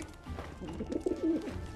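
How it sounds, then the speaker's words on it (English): A pigeon-like bird coos softly a few times in the Final Fantasy 7 video game, low murmuring calls over quiet background ambience with no talking. "Stupid bird."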